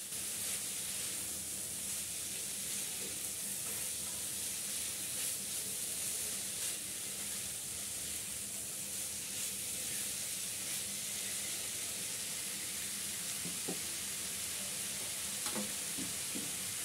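Grated potato and carrot being stirred in a pan, a steady sizzling hiss with soft scraping throughout, fairly quiet and continuous with no voices.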